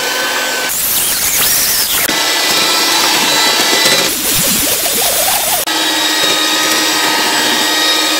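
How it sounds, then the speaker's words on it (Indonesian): An electric mixer beats cassava cake batter at high speed, a loud steady whine that shifts pitch and texture in several sections, with no talking. "Lalu ini di mixer sampai mengental terlebih dahulu sekitar 7 sampai 8"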